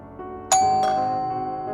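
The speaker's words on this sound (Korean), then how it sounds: "그날 밤 302호 초인종이 울렸어요" A ding-dong doorbell chime rings once at an apartment door, a bright two-tone strike whose second note lingers and slowly fades, fairly close and clear with no talking.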